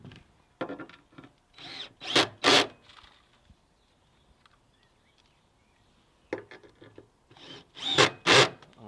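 A power driver sets screws through plywood sheets into a corner bracket of a formwork system, two separate bursts of short whirring pulses, close and fairly loud, with quiet pauses between them.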